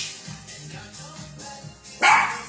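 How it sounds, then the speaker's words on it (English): A small dog barks in short, sharp bursts, a rhythmic string of yaps that ends in one louder bark, fairly close by. "Again, sorry about that barking."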